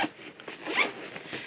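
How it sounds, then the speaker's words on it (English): Top zipper of a fabric packing compression cube being pulled closed, a short close-up rasping zip lasting about a second and a half with slight variations in speed. "you kind of put everything you have into the compression cube, then zip up the top zipper"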